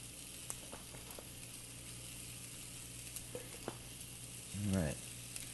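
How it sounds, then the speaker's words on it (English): Steaks seasoned with garlic searing in a hot pan, a low, fairly quiet steady sizzle with a few light ticks, and a brief voice near the end. "we're going to sear these probably about 3 minutes, turn 45 degrees, about 3 more minutes"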